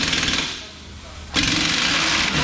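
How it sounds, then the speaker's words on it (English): An impact wrench hammers at an 18 mm bolt on the suspension of a 2019 VW Golf R, rattling loudly, dropping off briefly, then resuming in a close, harsh burst. "Now we're going to take out the 18 millimeter here."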